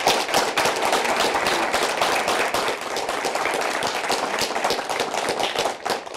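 Audience applauds in response to a poll question, loud close clapping from a modest crowd with distinct individual hand claps standing out in a brisk, uneven rhythm, holding steady then easing slightly at the end.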